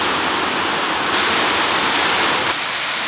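Large waterfall on Walton Brook, a loud, steady roar of falling water close by, broadband and unbroken throughout with no voices.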